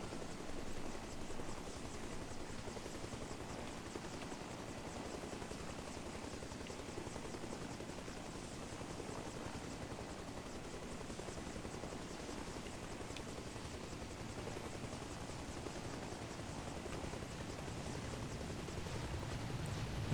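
Helicopter in the video game Arma Reforger flying low and setting down at a landing zone, a steady loud rotor and turbine roar filling the whole stretch and swelling slightly toward the end.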